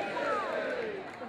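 A carnival crowd at a hillside festival in Luckau shouts its battle cry together, a faint, distant swell of many voices with rising and falling calls.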